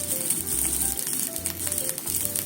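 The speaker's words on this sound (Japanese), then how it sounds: "で、焼き色がつくまで焼きますね。" Food pan-frying until browned for a quick New Year osechi dish, a steady soft sizzle running throughout at close range with no talking.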